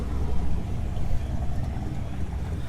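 Car engine idling with a lumpy, uneven rumble, a turbocharged car with a Turbo 57 number plate, heard steadily and fairly close throughout without other sounds.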